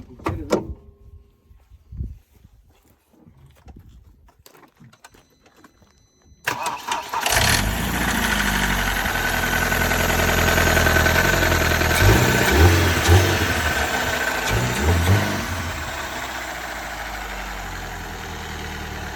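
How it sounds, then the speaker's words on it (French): A BMW 318 Ti with a knocking engine fault cranks and catches after a quiet stretch, then runs loud and steady up close, its rough idle rumbling with a rattling clatter. "c'est un 318 Ti, le moteur il claque, il y a un problème"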